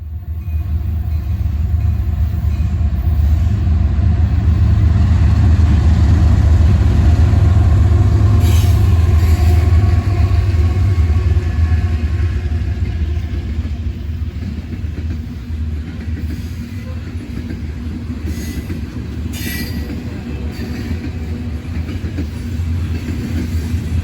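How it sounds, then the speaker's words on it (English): A heavy CSX coal freight train rumbles past close by at Point of Rocks, Maryland, a loud steady low roar with wheel clatter that swells early and slowly eases off. "Not too long after that was a second coal train"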